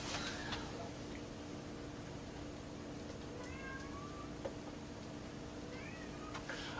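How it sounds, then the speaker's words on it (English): A faint cat meows a few times over a steady low hum, distant and quiet. "is not a lobster. It is in fact a cat."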